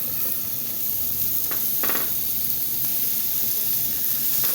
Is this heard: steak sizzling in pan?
yes